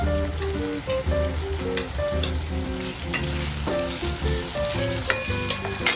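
Tomatoes fry on a high flame for street-style Mumbai pav bhaji, a steady loud sizzle with stirring scrapes and clatter running throughout, no voices.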